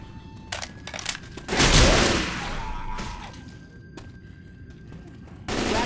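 Gunfire in Left 4 Dead 2 bursts out loud and close, a booming shot with a long rumbling tail, followed by quieter in-game ambience and another blast near the end.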